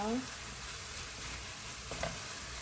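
Pork and bean sprouts stir-frying together in a pan, a steady close sizzle with a few scraping stirs, heard alone without talk.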